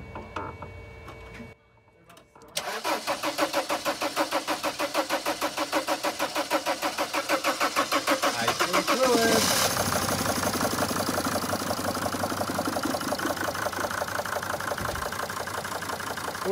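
A 2002-2003 Sprinter T1N diesel van engine, just after a fuel filter replacement and moly flush, cranks briefly and catches. It settles into a loud, close, steady rhythmic idle that runs roughly.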